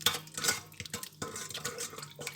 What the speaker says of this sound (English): Now mix the mixture that you've got